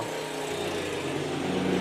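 Steady engine drone from a Mercedes car repair workshop, a continuous mid-loud mechanical hum with a faint rough, rattling texture, heard alone without talk.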